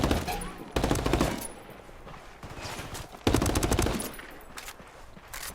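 Automatic fire from the MDR assault rifle in Ghost Recon Wildlands: two sharp bursts of rapid shots, the second louder, over a steady game ambience with footsteps.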